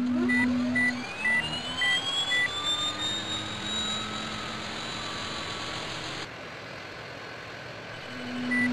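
Embraer 190 jet engines spooling up during startup in Real Flight Simulator, a steady rising whine with intermittent cockpit beeps, loud and continuous throughout.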